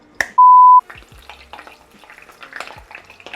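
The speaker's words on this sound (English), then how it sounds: "So now that this is sizzling, I'm gonna put my lid on" Purple peppers sizzle and crackle steadily in a frying pan, with a sharp electronic beep near the start and no talking.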